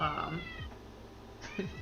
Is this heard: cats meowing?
yes